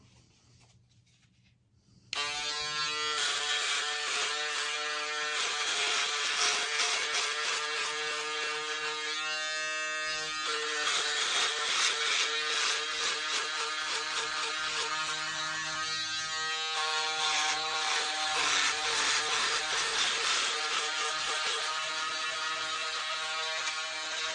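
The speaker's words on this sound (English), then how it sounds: "I just did my left side with the foil shaver" After a brief quiet start, an electric foil shaver shaving a head switches on and buzzes steadily and close for a long stretch, its pitch wavering slightly as it moves.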